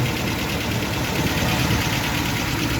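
A 1975 MGB GT engine running after a new alternator, fan belt and wiring were fitted, a steady close rumbling idle with a dense mechanical clatter and no voices.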